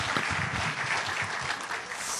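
Loud, sustained applause from a congregation at a church camp forum, thick continuous clapping that fills the whole stretch without a break.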